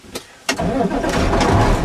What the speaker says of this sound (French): Je vais repartir le camion.